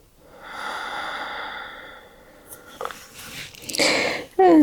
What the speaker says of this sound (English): Last deep breath here.